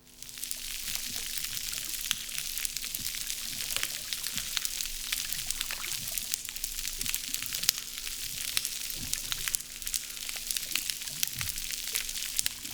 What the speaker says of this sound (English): This is a coral reef in the South China Sea.